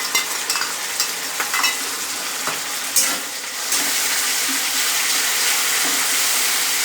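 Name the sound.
stirring sauces frying in a pan for chili egg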